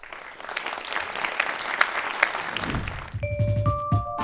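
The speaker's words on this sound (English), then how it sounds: "if you could give a round of applause" A forum audience gives a round of applause, the clapping swelling for a few seconds before a tonal chime and some thuds cut in at the end.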